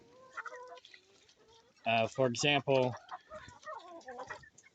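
Chickens in a coop cluck and squawk nearby, with a burst of loud, harmonically rich calls in the middle and softer clucking around it while someone talks briefly.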